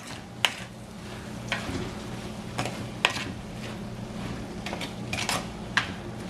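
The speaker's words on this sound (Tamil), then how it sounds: "இப்போ ஒரு 5 நிமிஷமா இதுல இருந்து வதங்கி கொண்டிருக்கு." Vegetable roll filling sautéing in a pan, a low steady sizzle with occasional sharp clicks and scrapes of stirring, faint and close.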